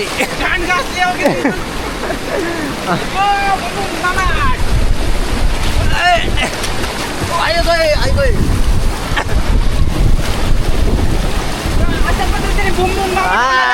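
A small waterfall rushes steadily in the forest on the Bhorgiri to Bhimashankar trek, a loud, broad roar mixed with wind buffeting the microphone, while people talk over it.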